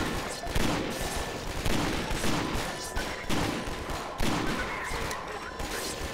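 Rapid bursts of gunfire from a weapon in Garry's Mod, loud repeated volleys in four or five close clusters with echoing tails, filling the whole stretch.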